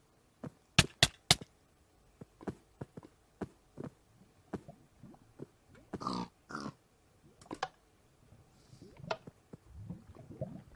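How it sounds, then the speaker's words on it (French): Pig in Minecraft, a game, giving a string of short grunts and oinks scattered across several seconds between sharp clicks and taps, fairly quiet, with no talking. "Va par là le cochon, va par là, va par là, va par là."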